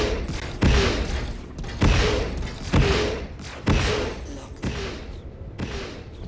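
Missiles fire one after another from a Cutlass ship in the Star Citizen video game, about six heavy, punchy launch blasts spaced roughly a second apart, each decaying into a rushing tail.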